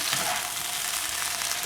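Prawns sizzling in butter in a pan while being stirred, a steady close hiss of frying without voices.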